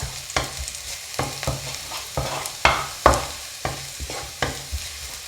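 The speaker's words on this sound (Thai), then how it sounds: "เจียวกระเทียมพอหอมจ้ะ" Garlic fries in hot oil in a pan while being stirred, with a soft continuous sizzle and repeated scraping clicks of a utensil against the pan, close up and without talk.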